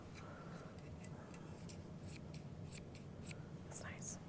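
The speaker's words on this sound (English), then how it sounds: "what a better time than to open a brand new pair of scissors" A brand-new pair of sewing scissors cuts through a paper sewing pattern for a small cat toy, giving soft crisp snips and light ticks in an irregular run, close and quiet over low room noise.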